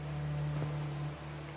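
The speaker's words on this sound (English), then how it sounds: "These drops of rain are so refreshing." Rain falling in the video game Call of the Sea, a soft continuous hiss of drops over a low steady hum, with no voices present.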